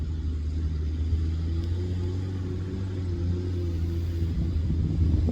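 A Nissan Patrol G60 4x4 engine pulling in second gear on a high-country trip, a steady low rumble that holds nearly constant throughout, heard from nearby without talk.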